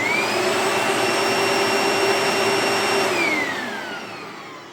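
A Panasonic Performance Plus MC-V5257 upright vacuum cleaner runs with a steady, loud whirring roar and a high motor whine, then begins to spin down and fade toward the end.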